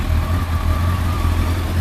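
Honda CBR400RR NC23 motorcycle engine idling while warming up, a steady, close, continuous low rumble with no talking over it.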